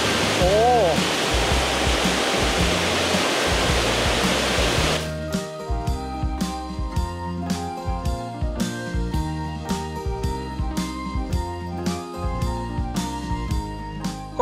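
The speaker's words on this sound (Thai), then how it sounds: "น้ำตกสวยมาก" Dai Chong Thong waterfall in Sangkhla Buri pours in a loud, continuous roar at first, then gives way to music with a steady beat that dominates the rest.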